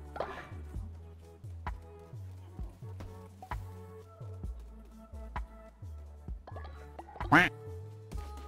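Cartoonish duck quacks from the video game Cult of the Lamb sound repeatedly in a steady rhythm over game music and effects, with a louder burst near the end.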